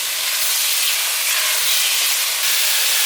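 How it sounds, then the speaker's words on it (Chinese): Tomatoes stir-fry in a dry pan before any water goes in: a steady, loud, hissing sizzle that runs without a break for the full three seconds, with no voice. "先不要加水，先不停的拌炒。"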